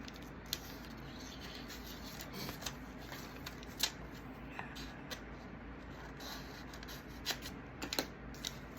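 Paper being creased and cut while making a travel sticker book: quiet rustling and sliding of paper with a few soft, sharp snips and taps scattered across the stretch, close and faint.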